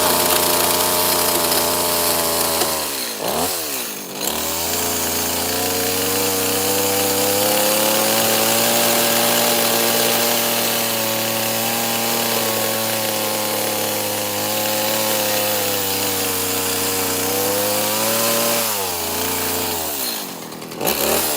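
A chainsaw carves a wooden cowboy boot, running at a loud, sustained, droning whine close up for about twenty seconds. Two brief dips in speed break the cut, near the start and near the end, and no voices are heard.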